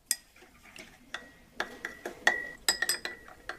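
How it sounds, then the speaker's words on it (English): Methanol and boric acid being stirred in a glass container, with repeated bright clinks and scrapes of the utensil against the glass in an uneven rhythm, close and alone. "Then I'll add some boric acid, and I'll stir it until it all dissolves."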